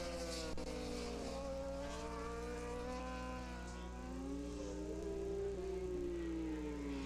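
Racing motorcycles scream through turn 13 and onto the front straightaway of an AFM road race, a steady layered high-pitched engine whine from several bikes running continuously, with faint commentary underneath.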